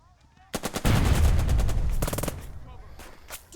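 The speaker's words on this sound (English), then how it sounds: "We're going to shoot them with this tank." Tank gunfire in the WWII tactics video game Burden of Command, a loud burst of rapid repeated shots that rolls into a sustained rumble, with another short burst of fire near the end.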